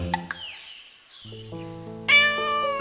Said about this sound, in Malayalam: ദേ ഒരു പൂച്ച വരുന്നു